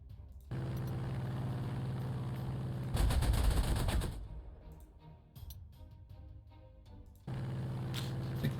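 Artillery fire in the Panzer Corps 2 strategy game, a sustained mechanical rumble broken by a louder burst of booming impacts midway, then a quieter stretch before the steady rumble returns.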